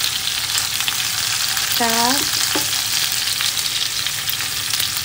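Chicken, garlic and onion sizzling steadily in a hot pan as they sauté, with a brief stir and a short spoken sound partway through.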